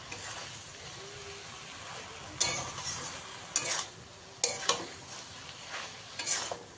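Pumpkin greens being stirred with mustard paste in a pan: a faint background sizzle broken by several sharp scraping strokes of a spoon against the pan, coming in short bursts close to the listener.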